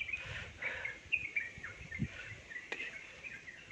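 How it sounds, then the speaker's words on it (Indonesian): Birds chirp faintly and repeatedly in the forest of Meru Betiri National Park, with a soft hum of insects underneath and no talking. "Burung-burung, suara burung juga banyak banget di sini."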